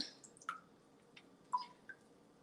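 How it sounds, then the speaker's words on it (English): Homemade rose water drips through a strainer after being pushed down, giving a few sparse, close, delicate drips and squishy trickles with quiet pauses between them. "you push it down and strain it through"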